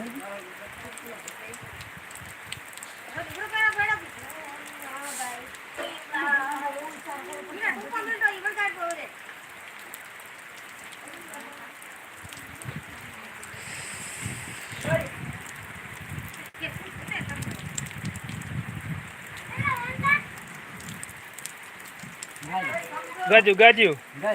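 Steady rain patters throughout while people talk over it, their voices rising and falling across the clip.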